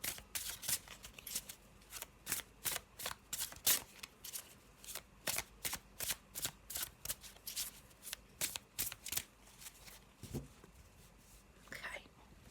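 Tarot cards from a Shadowlands deck are shuffled up close in quick, repeated riffling bursts with a soft brushing texture, and a quiet handling sound follows near the end.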